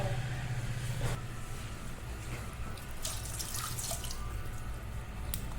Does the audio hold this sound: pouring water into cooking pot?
yes